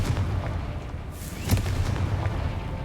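A Confringo fire spell bursts in Hogwarts Legacy, a single muffled blast landing amid a steady rumbling game background.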